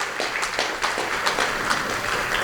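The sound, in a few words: applause for the village founders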